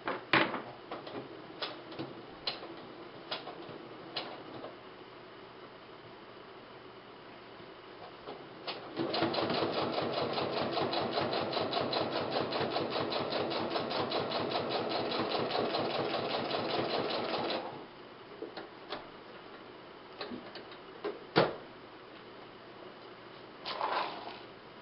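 A home sewing machine stitches fabric along a traced pattern line in a steady, rapid mechanical whir lasting several seconds, framed by quieter clicks and handling noises before and after.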